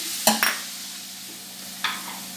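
Water goes into a pan of frying bean-seed curry, setting off a few short, sharp sizzling bursts with stirring scrapes between them, then a quieter hiss.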